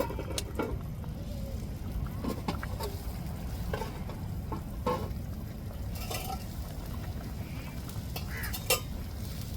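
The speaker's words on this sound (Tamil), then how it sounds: "இப்போ குழம்பு நல்லா கொதித்து கட்டியாக நல்லா மணத்தோடு வந்துருச்சு" Egg curry (kulambu) simmers in a pan with soft bubbling and occasional pops and clicks of a utensil against the pan over a low, steady rumble, faint and close.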